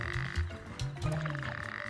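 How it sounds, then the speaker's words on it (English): A male toad's low, throaty trilling calls repeat in short bursts, close and clear against a quiet Arabian desert background. "In most toads, only males have the expandable throat sacs, which allow them to amplify their calls."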